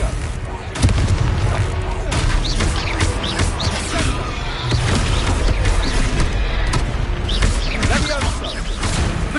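Confringo blasting spells explode in Hogwarts Legacy, a loud, continuous barrage of booms and crashing impacts with sharp bursts throughout, while combat noise fills the gaps.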